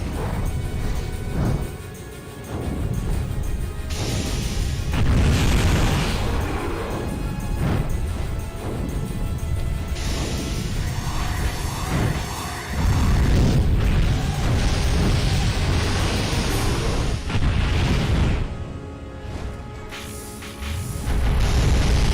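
Dragon fire explosions in a video game: repeated loud booming blasts and crashing bursts in irregular waves, dense and continuous, with no talk.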